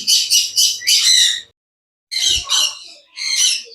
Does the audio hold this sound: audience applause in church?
no